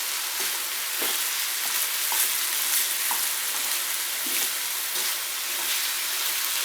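Chicken pieces frying in a hot pan, a steady bright sizzle broken by repeated scraping clicks as a spoon stirs the meat, close and alone without talk.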